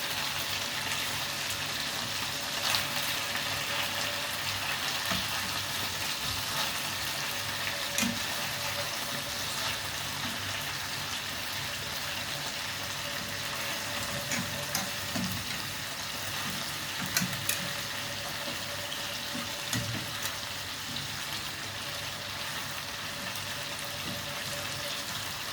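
Chicken pieces fry with softening onions in a pan, making a steady, moderate sizzle with scattered crackles and pops that continues evenly throughout, without speech.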